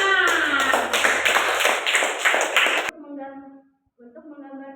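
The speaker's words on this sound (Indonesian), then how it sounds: "Nah, tepuk tangan." Hand clapping in a classroom-style practical exam session, a quick burst of several claps lasting a few seconds that stops abruptly, followed by a voice talking.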